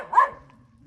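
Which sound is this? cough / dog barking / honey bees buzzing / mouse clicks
dog barking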